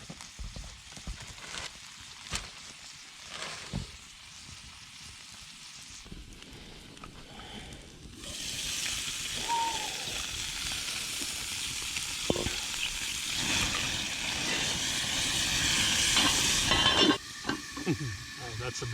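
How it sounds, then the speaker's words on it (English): Bacon-wrapped venison backstrap sizzles over a campfire at a snowy bushcraft shelter, starting with faint crackles and scattered pops, then swelling into a steady, louder hiss of frying fat. "Hear that starting to sizzle."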